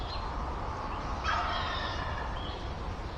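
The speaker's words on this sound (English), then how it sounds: "I moved on and got on the gobbling turkey eventually." A wild turkey gobbler in a northeastern field gives a rattling gobble partway through, distant and moderately loud over steady outdoor background noise.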